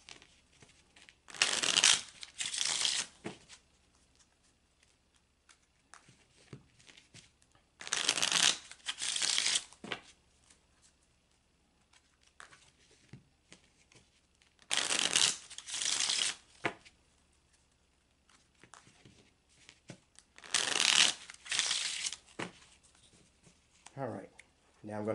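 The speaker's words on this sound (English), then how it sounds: "now we're going to draw 2 cards for the Chariot" Tarot cards are shuffled in four distinct bursts of crisp riffling, close and fairly quiet, separated by near-silence.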